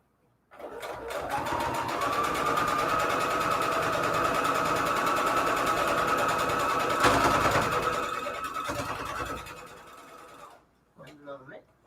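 Fabric scraps are fed through a sewing machine in one long continuous run, a loud close whir holding steady for about nine seconds before winding down, with a brief voice near the end.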